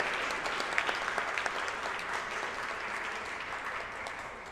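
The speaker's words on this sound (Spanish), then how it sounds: "Yo creo que podemos repetir ese aplauso" Applause fills a room at a press conference on child marriage and early unions, a steady wash of many hands clapping with a few sharper claps standing out near the start, tapering gently toward the end.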